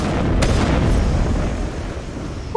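A missile explosion in the video game Mass Effect, a loud, deep rumbling boom with a sharp crack near the start that rolls on and slowly fades, no talk.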